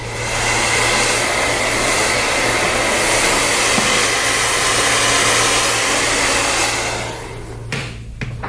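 A hair dryer roars loud and steady at close range, blowing freshly cut hair off a client after a haircut, then cuts off near the end with a few small handling clicks.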